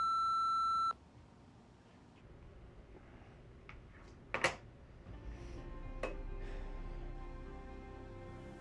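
A voicemail beep sounds right after a trucker's phone greeting: one loud steady electronic tone lasting about a second, followed by quiet room noise and a couple of brief clicks and knocks.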